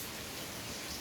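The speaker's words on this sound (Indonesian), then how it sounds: "Dan kebetulan di luar lagi hujan juga, ya mudah-mudahan juga suaranya nggak begitu mengganggu ya, suara hujannya" Rain falling outside a workshop where a 2006 Honda Tiger Revo GL-200 engine is being reassembled, a faint, even hiss of steady rainfall with no breaks.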